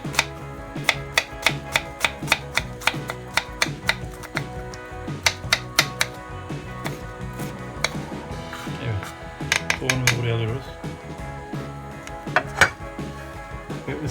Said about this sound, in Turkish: Şu şekilde doğruyoruz. Yarım soğan yeterli.